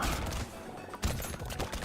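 Rocket explosions crack and burst in quick succession during a wave of the video game Brotato, a dense, continuous barrage of booms with a sharp heavier blast near the middle.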